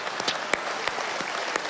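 Hands clapping at a mayor's New Year's wishes ceremony with the municipal council, several crisp claps at a steady, unhurried pace standing out near the listener above a low bed of scattered audience applause.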